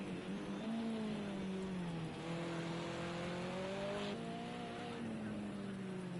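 Touring cars race on a wet Catalunya National circuit in a racing game, their engines droning and revving loudly with shifting pitch as several cars run together throughout.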